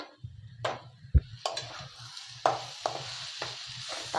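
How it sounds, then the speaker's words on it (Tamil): Two large tomatoes with ginger and garlic sautéing in a pan for pepper chicken gravy; soft sizzling under a low hum, with repeated short scraping stirs and one knock, and no talking. "தக்காளி நல்லா வதங்கட்டும்."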